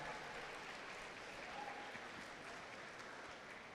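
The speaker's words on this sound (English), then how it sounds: "Give them a huge round of applause." An event audience applauds sponsors and volunteers at a school district gathering, a steady wash of clapping from many hands that carries evenly throughout.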